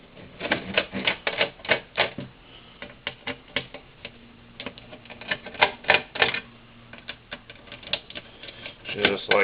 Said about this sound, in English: All you got to do is you got to unscrew these 4 bottom screws here.